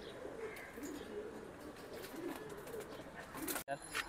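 Military pigeons coo in low rolling phrases close by, a steady backdrop of murmuring calls, ending with a brief sharp break near the end.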